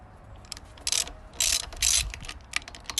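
Hand ratchet clicking close by while loosening long screws to take the air filter fascia off a lawn mower, several quick bursts of sharp metallic ticks separated by short pauses.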